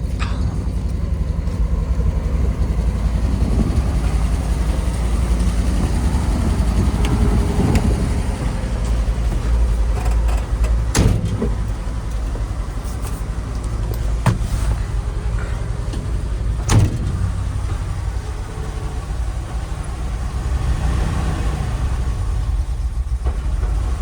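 An old International Acco 4x4 truck rumbles along while driving, a steady low engine drone from inside the cab with a few sharp knocks and rattles.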